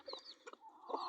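A backyard hen that recently hatched a clutch of chicks clucks in a few short, close bursts, with quieter chicken chatter in between.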